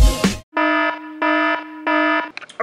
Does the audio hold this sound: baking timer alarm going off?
yes